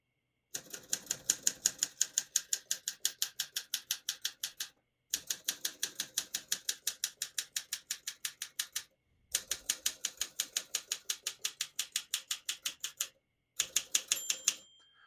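Rapid, evenly paced clacks of a 1958 Olympia SM3 portable typewriter come in four bursts separated by brief pauses, with a small bell-like ding near the end.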